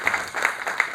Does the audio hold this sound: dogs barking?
no